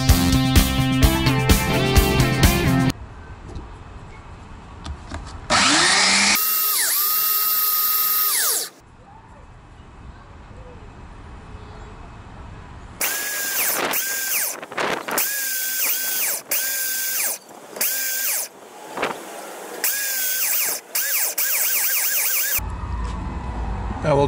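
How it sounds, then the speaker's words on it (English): A power sander works over resin, walnut and clay test pieces, coming in loud, whining bursts that start and stop repeatedly, with short quieter gaps between the runs. "So we'll sand these off."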